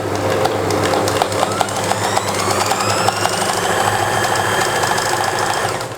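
Sewing machine stitching a fitting seam on a kameez, running steadily with a close, continuous mechanical whir and rapid needle ticking for the whole stretch.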